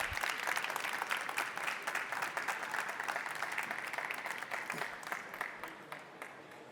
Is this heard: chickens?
no